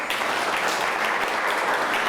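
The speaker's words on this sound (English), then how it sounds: "Let's give him another round of applause." A full round of audience applause at a civic ceremony in Tampa, continuous dense clapping from a sizable crowd, steady and loud across the short stretch.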